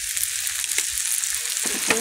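Pomfret fish frying in oil, giving a loud, steady, close hiss of sizzling oil with a couple of faint clinks and bubbling pops toward the end.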